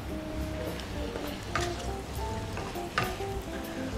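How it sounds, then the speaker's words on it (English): Spinach sizzles and fries steadily in a hot pan as it wilts, cooking alongside chicken, bacon and garlic for a creamy pasta; the crackle stays close and even throughout, with a couple of sharper spits of fat. "It's going to fry away, but it's going to shrink and wilt under the heat."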